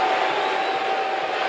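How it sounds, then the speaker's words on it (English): Wrestling arena crowd cheering for Jake the Snake, a dense, steady roar of many voices that holds loud and close for the whole moment. "fans cheering so tremendously for a guy named Jake the Snake"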